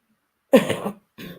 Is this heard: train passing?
no